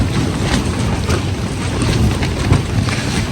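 Strong wind blowing snow outdoors in subzero cold, a loud, steady roaring rush buffeting the microphone with low rumbling gusts throughout, no voices.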